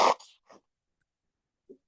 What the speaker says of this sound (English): I'm going to need to blow my nose